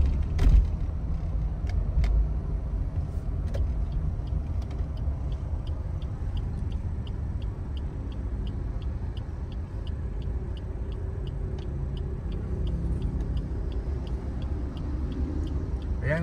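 Traffic heading down McKinley Hill makes a steady low engine and road rumble that runs the whole time, with a regular quick ticking like a turn signal and a single thump near the start.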